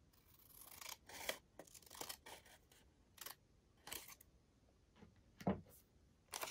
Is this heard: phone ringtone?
no